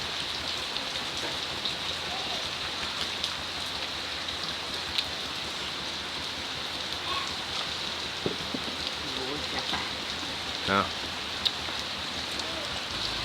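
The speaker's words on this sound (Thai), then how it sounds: "ฝนตกครับฝนตก" Steady rain falls and patters on surfaces during a power outage, a continuous hiss with occasional louder drips.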